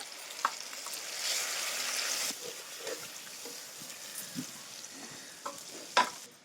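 Ground coriander and mint paste poured into a hot pan for mint pongal, a soft sizzle swelling briefly then settling to a quiet crackle with a few utensil taps, near and without talk.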